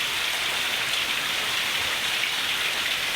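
A heavy downpour in Khamidana village, Keshod taluka, pours down as a dense, constant hiss of rain striking surfaces, loud and unbroken throughout.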